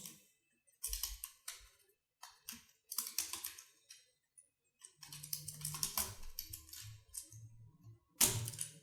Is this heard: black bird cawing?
no